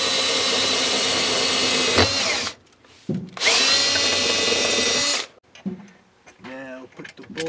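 A power drill whines loudly in two long bursts separated by a brief pause while drilling holes to install a car battery disconnect switch, followed by quieter clicks and a short stretch of talking.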